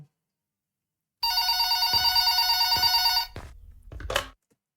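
A telephone bell rings loud and steady for about two seconds in a bright, harmonic peal, then stops, followed by a few soft knocks and a short rustle.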